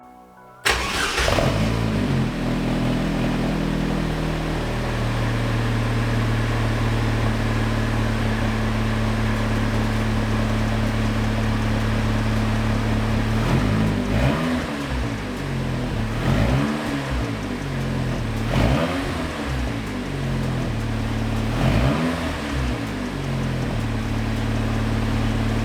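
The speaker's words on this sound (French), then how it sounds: "Je crois que le pot d'origine, il fait un poil de bruit." An Opel Speedster with its original exhaust starts up and settles into a loud, close idle, then gets several sharp revs that rise and fall before it returns to a steady idle. No one speaks.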